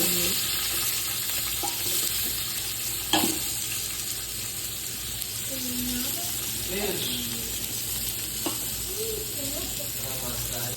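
Ginger, garlic, crushed shallots and green chillies sizzle and fry steadily in a pan of onions and spices for a prawn biriyani masala, with occasional stirring clinks and a brief tap of utensils; a voice is heard faintly at times.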